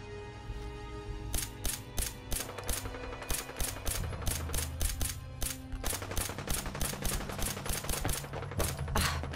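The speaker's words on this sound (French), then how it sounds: "Ça tire là-bas." Gunfire in Fallout 4 rings out as repeated sharp bursts, single shots and rapid volleys spaced irregularly over a low background hum, loud and close with no talking.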